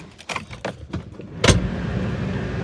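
A car being moved to park in the shade after rain, with a burst of mechanical clicks and clunks, then a sharp knock as the engine or a door engages, followed by a steady low running rumble.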